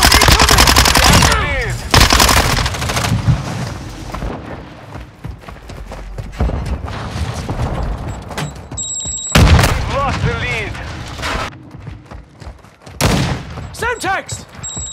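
Call of Duty MW2 team deathmatch on the Shoot House map: rapid automatic gunfire and sharp explosions in loud bursts, separated by short quieter stretches, with a few chirping electronic tones in between.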